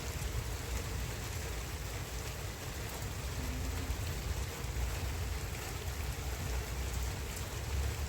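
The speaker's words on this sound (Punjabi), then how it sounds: "3 ਵਜੇ ਕੇ 2 ਮਿੰਟਾਂ ਤੇ ਮੀਂਹ ਹੋ ਗਿਆ ਸ਼ੁਰੂ" Steady rain falls continuously, a dense, even hiss of drops on surfaces with no break throughout.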